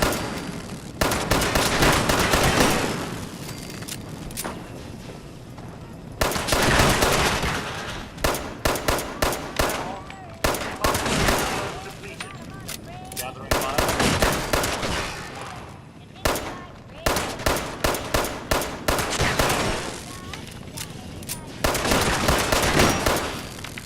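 Loud bursts of gunfire from Fallout 76 come in repeated volleys, some sustained like automatic fire and others short clustered shots, separated by brief lulls and continuing throughout.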